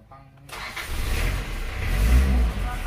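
An Isuzu Panther diesel engine is cranked with the starter and catches, rising quickly into a loud, steady running rumble close by after a brief quiet moment.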